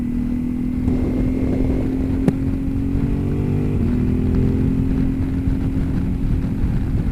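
A Ducati Multistrada 1260S motorcycle engine warms up at a steady idle, a continuous close low rumble with a slight shift in tone partway through and no talking over it.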